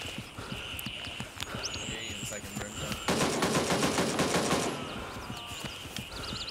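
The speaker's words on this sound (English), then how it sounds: "Who is shooting right now?" Automatic gunfire in a DayZ-style survival shooter game, a dense burst of rapid shots lasting around two seconds midway, with scattered quieter sounds before and after and no speech.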